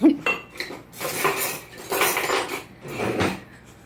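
Kitchen utensils clatter and clink as someone rummages through a drawer for a cookie scoop while making peanut butter cookies, with several bursts of metallic jangling close by and no talking.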